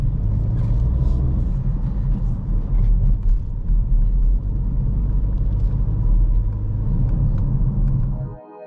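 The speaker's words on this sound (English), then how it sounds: "more gas, and gently release the clutch." A manual car engine rumbles steadily as the clutch is released and the car moves off, a low continuous drone that fades out at the end.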